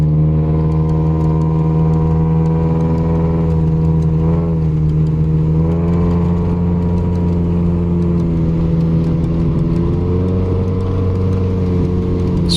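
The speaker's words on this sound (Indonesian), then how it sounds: "Suara deru knalpot racingnya semakin menambah adrenalin kita saat memencet gas." A Hyundai Elantra fitted with a racing exhaust accelerates, its engine roaring loudly and continuously with rising and falling revs as the throttle is pressed, heard up close and alone.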